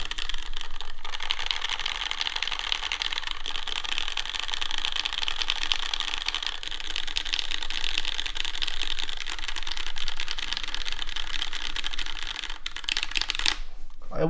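Steady dense clatter of typing on a mechanical keyboard with brown switches on a custom board, continuous and close for most of the stretch with no talk, stopping just before the end.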